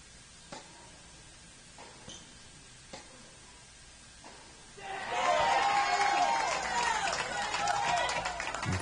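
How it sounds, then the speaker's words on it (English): Home crowd at a Stanford versus Rice men's college tennis regional match erupts into loud, sustained cheering and applause after a point, following a few seconds of quiet court sounds with sparse thumps. "You can tell how that point went just by the sound of the home crowd."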